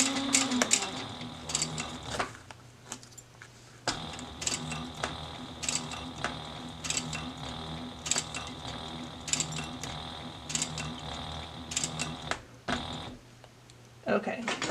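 A sewing machine stitches a quilt block toward the bottom corner, running in rapid mechanical bursts separated by short pauses, with a quiet voice faintly present.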